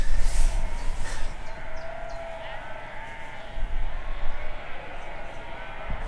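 Sheep bleat repeatedly at a distance across an open outdoor space near a castle in Wales, with wind noise, while someone talks nearby.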